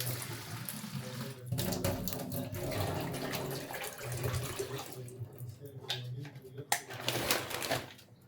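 Tap water runs steadily into a pot for mahalabia in a home kitchen, a close splashing gush with clinks and knocks of the pot, briefly easing before resuming.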